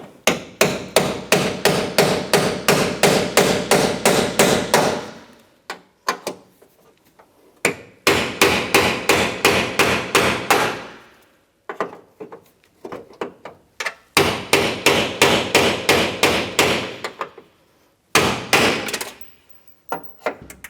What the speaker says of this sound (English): I'm going to take a cold chisel and I'm just going to try to snap these off